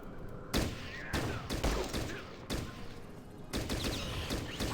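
Bursts of gunfire in the video game Fallout Tactics, several sharp volleys and rapid shots at steady loudness, broken by brief gaps, with no voice over them.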